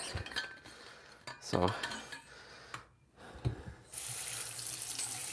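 Tap water runs steadily into a water bottle at a sink after some clinking and handling of dishes and utensils. It is close and fairly quiet.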